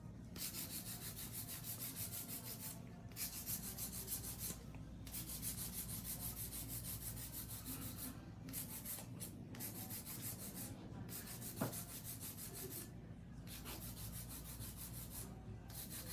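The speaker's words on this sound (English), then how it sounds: "This is hand filing." Hand file rubbing steadily across an acrylic nail surface to smooth it, a continuous close scratchy rasp with brief pauses between strokes and no talking.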